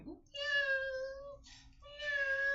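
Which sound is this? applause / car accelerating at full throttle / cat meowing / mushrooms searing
cat meowing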